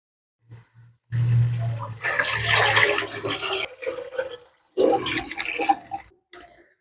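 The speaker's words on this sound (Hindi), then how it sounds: "अब इसमें मैं 2 लीटर पानी डाल दूंगी।" About two litres of water gush and splash into a pot of cooked chicken mince in a sustained pour lasting a couple of seconds, followed by a second shorter pour, close and fairly loud.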